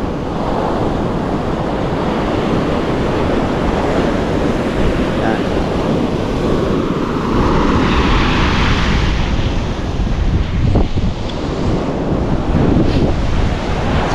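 Rough sea waves rolling onto the shore under strong wind, a loud continuous roar of surf with heavy wind buffeting the microphone and occasional surges of breaking water.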